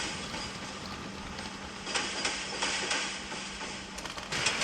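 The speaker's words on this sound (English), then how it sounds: "plays some sounds that suggest the motor's powering up and the wheels rolling over rails." A LEGO 60470 Explorer Train set plays a small electronic train sound: a low mechanical hum with a steady rattle and clicks suggesting wheels rolling over track.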